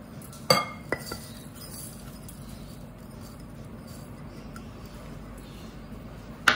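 Egg yolks and sugar stirred together in a bowl, a few sharp utensil clinks against the side at the start and end, with quiet scraping in between.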